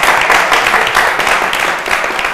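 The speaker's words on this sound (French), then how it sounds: "on l'applaudit" Studio audience applause on a French youth talk program, a dense steady crowd clapping that fills the whole moment at close range with no talk over it.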